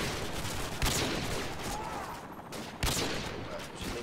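Sniper rifle fire in Call of Duty MW2: two sharp, loud cracks about two seconds apart over constant battle noise, with someone talking in French underneath.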